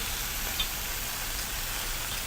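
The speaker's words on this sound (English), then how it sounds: "And that calms down that sizzle there a bit." A steady, hissing sizzle of coconut curry fish stew with coconut milk cooking in a pan, continuous and fairly close, with no talking.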